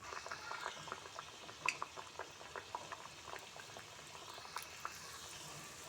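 Kachori puffs deep-fry in a pan of oil, giving a faint, steady bubbling fizz with small pops scattered throughout.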